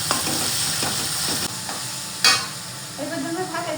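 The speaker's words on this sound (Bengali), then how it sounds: "এরকমভাবে ভেজে ভেজে নিলাম।" Onions and tomatoes frying in a pan give a steady, loud sizzle, broken by a few scraping stirs and a sharp clatter near the end, with no talk.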